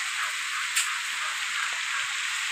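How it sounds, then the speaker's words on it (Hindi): Heavy rain pours down steadily as a dense, continuous hiss with no pauses, loud and close, with a single brief patter burst standing out early on. "बारिश होने लगी है। अब बहुत तेजी से हो रही है।"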